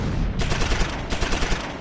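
A medium machine gun fires in Close Combat 4, a World War II battle at Monschau during the Battle of the Bulge, in two loud, rapid rattling bursts separated by a short gap.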